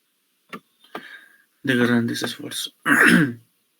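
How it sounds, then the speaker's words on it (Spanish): A few short throat-clearing coughs, then a person speaks a couple of phrases, close and clear in a quiet room. "Esto se asocia a tos está tosiendo otra vez"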